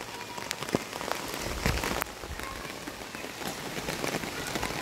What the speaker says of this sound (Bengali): বর্ষায় আমি ছাদের থেকে এই চলচ্ছবিটা তুলছি, জল ভর্তি, ছাতা মাথায় দিয়ে তুলছি।